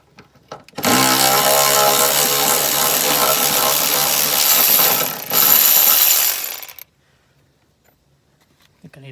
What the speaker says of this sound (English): I'm going to take them out the rest of the way with this ratchet, electric ratchet, if I can.